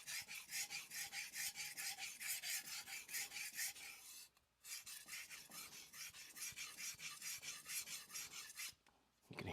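A Shirogami #2 nakiri knife scrapes back and forth on a wet Tsushima Ocean Blue Japanese natural stone in steady rhythmic rasping strokes, close and continuous, pausing briefly twice.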